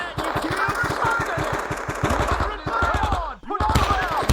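Gunfire in the Men of Valor video game: rapid, loud, rhythmic bursts of automatic fire, near and continuous, with shouting voices mixed in.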